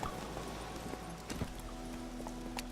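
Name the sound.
horse hooves clip-clopping, from a video game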